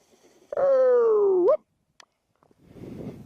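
An FPV quadcopter with Multistar Viking 2208 2600 Kv motors, Gemfan 6045 props and a 3S battery runs at full throttle downwind. It gives a loud, sweeping whine for about a second, then cuts to near silence.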